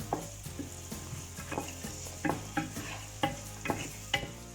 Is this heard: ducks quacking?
no